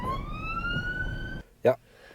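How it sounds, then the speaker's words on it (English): A police car siren wails in a long rising tone heard from inside a car during a driving lesson, cutting off abruptly, followed by a brief voice. "so you've got the police car"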